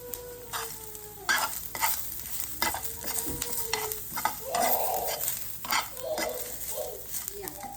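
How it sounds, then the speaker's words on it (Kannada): Black pepper and cumin seeds fry in hot oil with a bright sizzle while a spoon stirs and scrapes the pan in irregular, close strokes, no voices. "ಮೆಣಸು ಜೀರಿಗೆ ಹಾಕ್ತಾಯಿದ್ದೀನಿ. ಇದು ಫ್ರೈ ಮಾಡೋದು."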